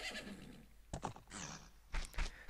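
Epona, the horse in Zelda: Majora's Mask, whinnies in short bursts alongside hoof clops and other game sounds, fairly clear and close.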